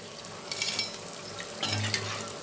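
Samosas fry in hot oil with a steady close sizzle and bubbling, plus brief stirring and scraping sounds, with no talk.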